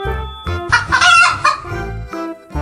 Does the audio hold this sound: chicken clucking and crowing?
yes